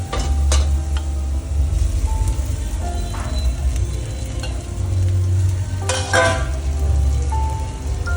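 Potatoes and onions for Nagpur-style tarri poha fry in a pan while being stirred, giving a steady close sizzle with scraping and clinking of the spoon throughout.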